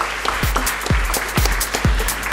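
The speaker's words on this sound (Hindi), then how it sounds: "तो इस बात पे एक बार फिर जोरदार तालियां हो जाएं, please all of you" Audience at a skin-care consultant training ceremony claps loudly and steadily, with heavy rhythmic thumps cutting through the dense applause at about two per second.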